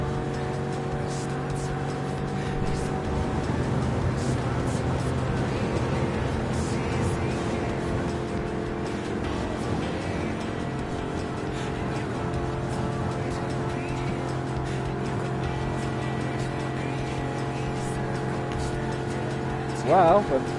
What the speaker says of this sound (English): Oh, this car's definitely got a bit more speed than the other car that we had.